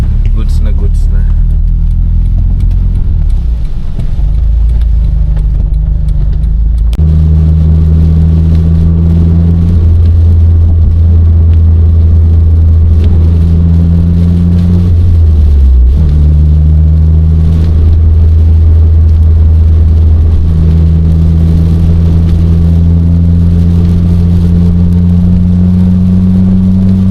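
A Honda City turbo engine, newly refitted with a stock engine support, runs steadily at close range, a continuous loud hum and drone whose pitch shifts upward slightly partway through.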